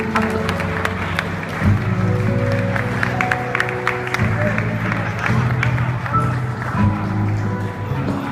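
Audience applause for a carousel dance performance at an exhibition, a dense steady wash of clapping lasting the whole stretch, with voices and tonal background sound running underneath.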